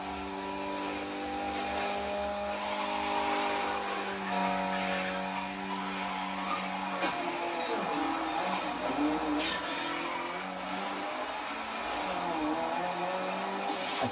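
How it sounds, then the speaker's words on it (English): A car drifting at the Hoonigan Motorfest, its engine droning steadily at a distance as the revs rise and fall across the run. "I finally learned how to drift properly."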